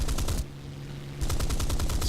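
Machine guns of a Mustang Mk Ia fighter in War Thunder over Malta, two loud, rapid bursts of automatic fire separated by a short pause with a steady engine drone beneath.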